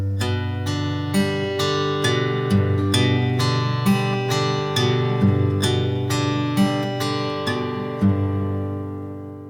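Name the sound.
fingerstyle guitar picking pattern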